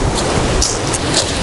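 Stormy sea surf surges onto the embankment in Adler, Sochi, with strong wind, a dense, continuous roar of crashing water and spray filling the whole span without pause.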